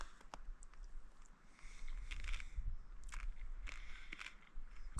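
A crunchy dehydrated camping meal chewed up close while bivouacking in the Pyrenees, soft irregular crunches and crackles over quiet outdoor background, with no talking.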